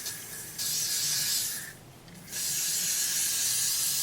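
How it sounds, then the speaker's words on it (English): Hairspray from an aerosol can sprayed onto combed-back hair in two bursts, a long steady hiss then a short pause and a second sustained hiss, close and fairly loud with no talking. "A little bit of hairspray."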